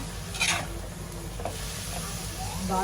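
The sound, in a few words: khova sautéing in oil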